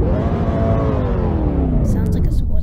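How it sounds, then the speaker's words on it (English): A 2022 Audi Q5 in the Roblox game Greenville revs its engine, a loud continuous rumble whose pitch climbs and then falls away, with a short burst of talk near the end. "Let's do the rev."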